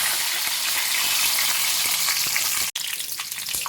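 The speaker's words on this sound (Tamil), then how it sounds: "கருவேப்பிலையும் நல்லா பொரிஞ்சிருச்சு" Curry leaves fry in hot oil in a pan, a dense, loud, steady sizzle with crackling bursts, briefly cut off near the end before resuming, with no talk.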